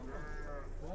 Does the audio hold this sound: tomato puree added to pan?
no